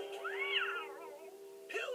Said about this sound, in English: You know cats aren't allowed on building sites, Pilchard